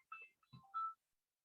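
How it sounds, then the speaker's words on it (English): A mobile phone rings with a short melodic burst of electronic tones, a few quick clear notes close by in an otherwise quiet room. "That's my phone going off."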